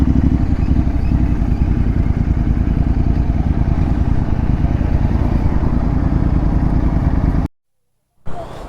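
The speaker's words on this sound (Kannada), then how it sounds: "ಅಲ್ಲಿ ಯಾವುದೋ ದೊಡ್ಡ ಬೈಕ್ಸ್ ಬಂದಿದೆ" Big motorcycles, including a Triumph Speed Triple 1200, rolling past on the road between Bangalore and Kolar, a loud continuous engine drone with wind, cutting out abruptly near the end.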